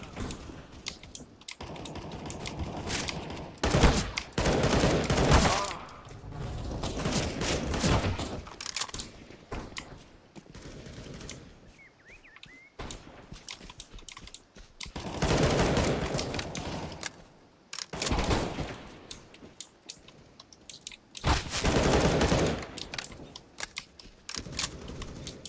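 Gunfire in the video game Counter-Strike (CSGO), repeated bursts of rapid shots in clusters separated by quieter stretches, loud and close, mixed with clicky keyboard-like rattles.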